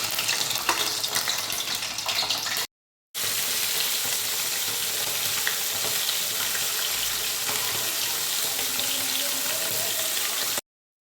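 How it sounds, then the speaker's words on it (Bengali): Rohu fish pieces frying in hot mustard oil, a loud continuous close sizzle that cuts out briefly and then resumes, steady to the end with no speech. "সর্ষের তেলটা গরম হয়ে আসলে আমরা মাছগুলো দিয়ে দেবো তেলটা বেশ গরম হয়ে এসেছে এবার একে একে মাছ দিয়ে যাবে"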